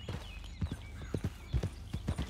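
Horse hooves clip-clop in the video game Red Dead Redemption 2, a steady rhythmic gait of soft thuds repeating throughout over a low background hum.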